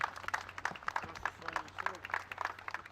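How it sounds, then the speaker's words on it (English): Applause and a crowd's hubbub as Dennis Oland leaves a courtroom a free man, with scattered clapping heard at a moderate distance under a reporter's voice speaking over it. "Dennis Oland was greeted with applause when he left the courtroom, a free man"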